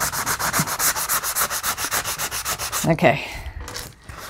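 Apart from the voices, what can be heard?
sanding block rubbing a hardcover notebook's corners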